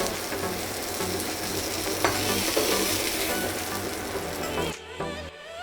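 Cauliflower pieces frying in hot oil in a kadai for vegetarian khichuri give off a steady, close sizzle and crackle with scraping stir sounds, then cut off abruptly near the end; no one speaks.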